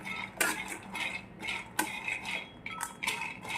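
Peanuts are stirred while roasting in a pan over low heat, giving repeated scraping and rattling bursts of the utensil and nuts against the metal, close and fairly quiet.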